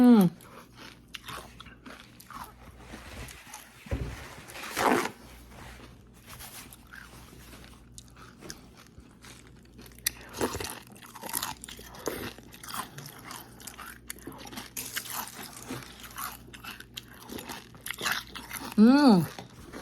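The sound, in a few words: crunchy cereal with milk being eaten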